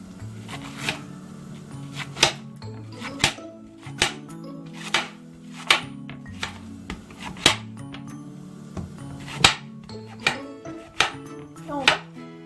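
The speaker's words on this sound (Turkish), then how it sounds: "Şimdi pırasalarımızı doğrayalım." Leeks are sliced with a knife on a cutting board at home, about a dozen crisp, distinct chops in an uneven rhythm, close and fairly quiet, with soft handling noises between strokes.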